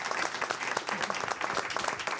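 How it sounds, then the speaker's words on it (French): Brief, lively audience applause at the close of a French TV program, dense rapid clapping lasting a couple of seconds without talk. "on peut les applaudir"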